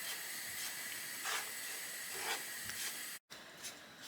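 Mutton nihari masala frying in a pan over a medium-low flame, a steady soft hiss and sizzle that swells gently a few times and cuts out briefly near the end.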